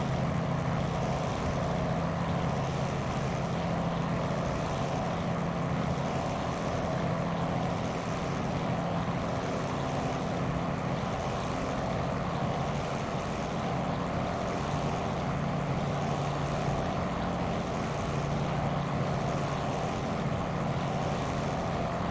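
Propeller engine of a P-40F Warhawk in a flight simulator, accelerating: a steady, loud droning hum with low harmonic tones that holds continuously throughout, without speech.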